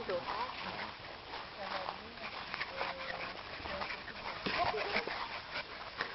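Puppies play and pant close by, with quick breathy panting, faint whimpers and scuffling steps under a person calling to them.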